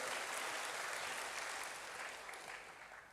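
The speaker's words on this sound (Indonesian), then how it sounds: "Yang percaya berikan tepuk tangan bagi Tuhan" Church congregation applauding during a sermon on the Ascension, a broad wash of many clapping hands, steady and full, slowly fading toward the end with no speech over it.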